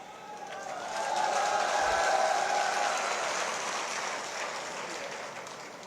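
Crowd applause at a statue unveiling ceremony, a soft rain-like patter of many hands that swells after the first second, holds, then slowly fades, heard from a distance.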